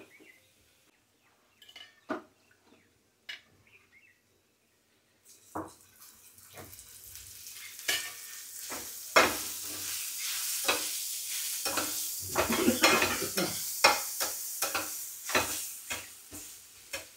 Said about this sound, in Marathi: ऑइल न टाकता असा कांदा मी फ्राय केला आहे. ह्याच्यामध्ये थोडंसं आता ऑइल टाकेल मी.